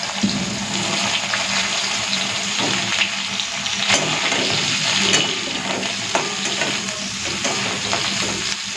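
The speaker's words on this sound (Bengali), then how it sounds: "তো দিয়ে দিচ্ছি কেটে রাখা বেগুনগুলো।" Sliced eggplant dropped into hot oil tempered with black cumin seeds sizzles loudly and steadily up close, with crackling pops and occasional stirring scrapes running throughout.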